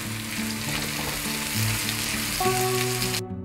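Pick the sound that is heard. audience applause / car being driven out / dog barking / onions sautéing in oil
onions sautéing in oil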